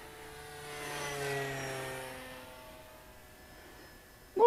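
Radio-controlled scale model of a La-5FN fighter plane making a flyby, its engine whine rising as it approaches and then fading away, heard alone until a brief knock at the end.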